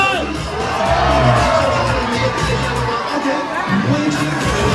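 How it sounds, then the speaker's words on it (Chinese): A large crowd at an amusement park event screams and cheers loudly and continuously, with whoops and shouting voices blending into a dense roar. "尖叫声！"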